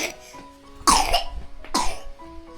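A young child coughs twice in quick bursts, close and fairly loud, with faint babbling between.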